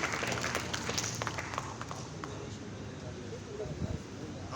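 An audience at an Urdu stage comedy show claps briefly, with sparse, somewhat thin applause fading under someone speaking.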